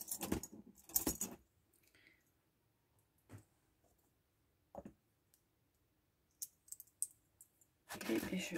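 Pliers are picked up and handled while a puzzle box is assembled, giving quiet, scattered metallic clicks and clinks, with denser clattering bursts at the start and end and near-silence between.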